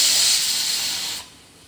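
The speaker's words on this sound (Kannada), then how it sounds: "ಲಿಡ್ ಕ್ಲೋಸ್ ಮಾಡಿ 2 ವಿಸಲ್ ಕೂಗಿಸ್ಕೋಬೇಕು" A pressure cooker whistle blasts a loud, steady hiss of escaping steam for about a second, then cuts off abruptly, leaving a fainter fading hiss in a home kitchen while channa masala is being cooked.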